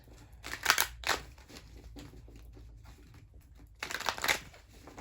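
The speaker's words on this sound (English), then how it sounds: "I'm going to shuffle the cards ahead of time" Tarot cards being shuffled close by, heard as two quick papery riffling bursts separated by a quieter stretch of soft handling.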